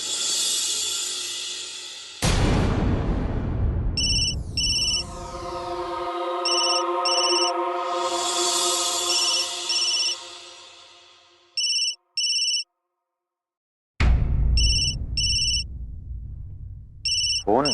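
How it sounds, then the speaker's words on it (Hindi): A chiming electronic ringtone plays in repeated bursts over a sustained musical tone, with brief pauses between cycles and a dramatic sound effect at the start, fairly loud and without talk. "फोन बज रहा है बेटा, उठा ले।"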